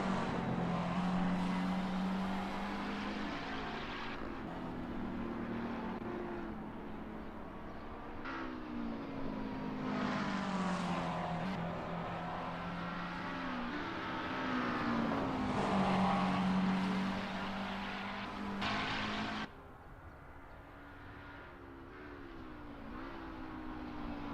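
GT3 race cars in the Assetto Corsa racing game at Watkins Glen, engines droning and revving through rising and falling gear changes, several cars overlapping at moderate distance in a continuous stretch with no talk.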